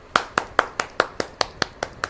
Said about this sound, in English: I'll clap for all of you